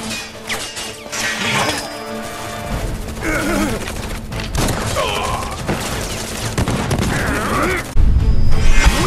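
Gunfire fills a battle in the video game Final Fantasy VII Remake, with loud rapid bursts and impacts layered over game music and voiced combat dialogue throughout.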